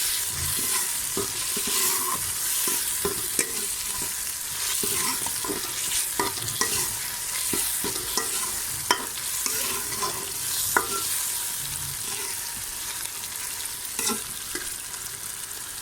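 Onions browning in oil in a pan for a chana and mash dal, a steady close sizzle broken by repeated scraping and clinking of a spoon as they are stirred.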